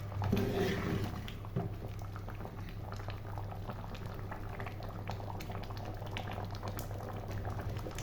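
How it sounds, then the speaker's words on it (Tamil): Liquid bubbles and boils steadily in a pot with turmeric, for citron pickle, a continuous close gurgling with small pops, moderately quiet and unaccompanied by speech. "அந்த அளவுக்கு நம்ம கொதிக்க விடணும்"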